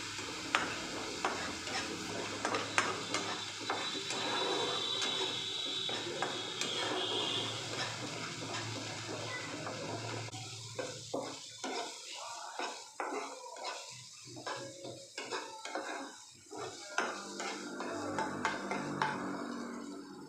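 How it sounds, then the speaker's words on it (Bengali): Bengali-style spice paste (masala) being stir-fried in a pan over a medium gas flame for a katla fish curry, with steady soft sizzling, scraping and clinking of a spatula against the pan, busier at first then sparser. "গ্যাসের ফ্লেমটা মিডিয়াম রেখে সুন্দরভাবে মশলাগুলোকে কিন্তু কষিয়ে নিতে হবে"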